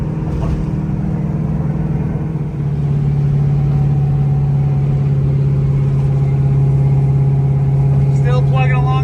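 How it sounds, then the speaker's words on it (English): A vehicle engine drones steadily at high revs in fourth gear on the highway, fifth gear lost, holding a constant loud tone throughout with no change in pitch. "Lost 5th gear, running a little hard at this RPM."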